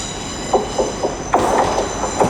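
A Transpennine Express train to Newcastle pulls into Leeds station, a steady rumble with rhythmic clicks of wheels over rail joints, swelling louder midway as the carriages roll close past, with a faint high whine throughout.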